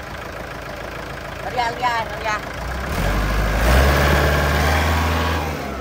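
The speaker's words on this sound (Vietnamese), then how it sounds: "Cái máy này nổ rất là ngọt luôn nha bác" A Kubota 5018 tractor's engine idles with a steady diesel rumble that grows louder and deeper partway through, while someone speaks briefly over the start.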